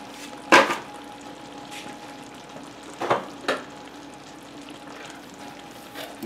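A mushroom blend is stirred into a frying soup pot with chicken, giving a few sharp scraping clatters against a low steady sizzle, two main bursts spaced apart and a faint knock at the end, no voices.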